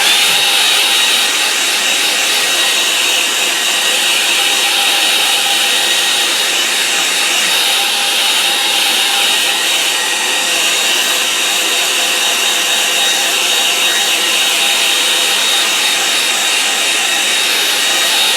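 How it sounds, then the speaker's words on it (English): Hair dryer blowing steadily to dry a watercolour painting, a loud continuous whirring hiss held close for the whole stretch with no pauses and no talk. "So here we go, hair dryer."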